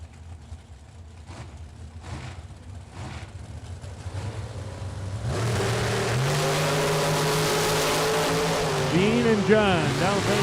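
Dragsters at a Super Pro drag racing event, one an American chassis dragster, idle and then launch with a loud sustained roar and rising engine pitch that fills the end, under an announcer's voice.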